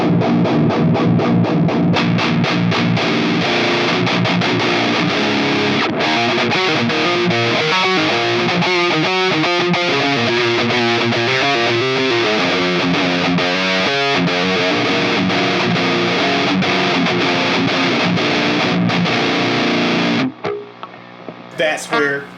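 An electric guitar played through a distortion pedal into a KSR Ceres preamp with the amp model switched on gives a loud, dense, saturated tone of sustained chords and riffs, ending abruptly in a few short choppy bursts.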